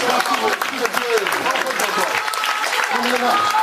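A church congregation at a Togo mission service applauds Jesus with steady, loud, dense clapping throughout, mixed with crowd voices and singing.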